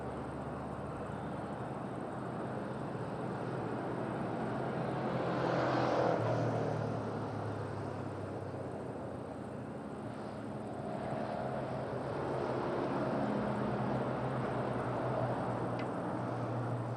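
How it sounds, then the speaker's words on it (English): A fixed-wing airplane landing at Madeira Island Airport in gusty wind, a steady broadband engine roar rising to a swell around the middle and holding under wind rumble, with no voices. "that was a pretty butter landing"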